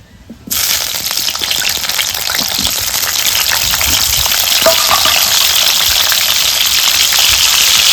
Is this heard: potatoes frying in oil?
yes